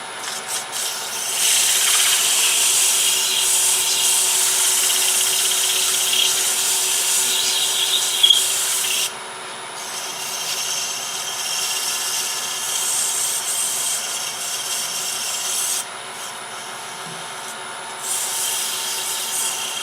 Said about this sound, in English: I want to do a little bit of sanding on it.